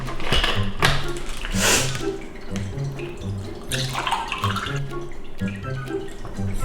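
Tap water runs into a glass in a home kitchen, a splashing, gurgling stream with a few louder gushes, close by, while background music plays steadily underneath.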